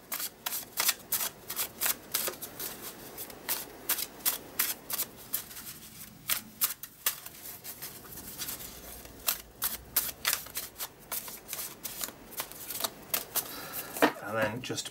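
A deck of 52 prompt cards is shuffled by hand: repeated crisp riffling and flicking bursts in quick succession, close and fairly loud.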